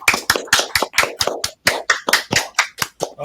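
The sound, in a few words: audience applauding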